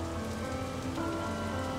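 Steady rain falls continuously on a surface, a dense, even patter without pauses, fairly close and moderately soft, with no voices heard.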